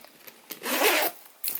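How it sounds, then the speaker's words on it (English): The long zipper on a Skip Hop Studio Select diaper bag tote is pulled open in one smooth, close rasp lasting about half a second, with light rubbing before and after. "So there's a nice long zipper that goes across all the way to the end of this tail here."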